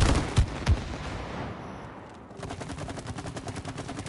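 Rapid bursts of video game gunfire fill the scene, with two heavy shots up front, a brief lull, then a dense run of automatic fire that keeps rattling steadily to the end.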